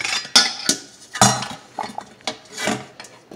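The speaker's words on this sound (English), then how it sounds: "So I'm straining my black beans, as y'all can see." Rinsed organic black beans being drained and shaken in a kitchen strainer, a string of close, sharp metallic clinks and rattles in uneven bursts.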